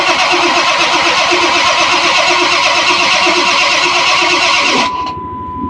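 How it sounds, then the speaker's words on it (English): A cold truck engine cranks and catches, running loudly with an uneven, rough idle before the sound drops abruptly near the end. "It's giving me a little tiny rough idle, so they're starting to go out."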